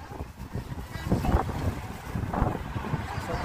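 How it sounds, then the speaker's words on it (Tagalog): Strong wind buffets the microphone outdoors in Ireland, a rough, gusty low roar that rises and falls in bursts over a few seconds. "Sobrang lakas ng hangin."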